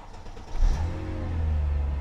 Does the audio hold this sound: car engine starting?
yes